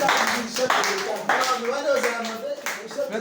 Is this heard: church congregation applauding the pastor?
yes